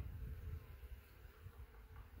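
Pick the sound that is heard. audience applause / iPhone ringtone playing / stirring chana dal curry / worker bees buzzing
worker bees buzzing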